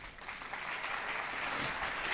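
Audience applause welcoming a speaker to a talk on love letters in Portuguese, a steady, even wash of clapping from a crowd that holds at moderate level throughout, with no voices over it.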